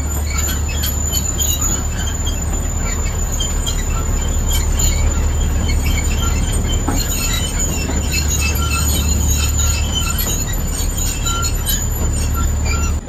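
A train rumbles past at Matheran in winter, steady and loud throughout, with wheels squealing and metallic rail clatter over a constant low roar.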